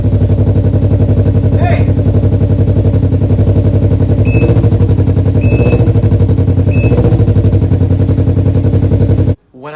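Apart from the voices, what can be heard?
Can-Am Ryker motorcycle engine with new exhaust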